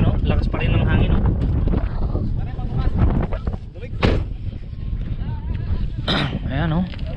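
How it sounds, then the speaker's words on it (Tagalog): Strong mountain-pass wind at Col de la Bonette buffets the microphone in a constant low roar, with people talking over it throughout. "Ayan o, oh, lakas pa rin ng hangin o"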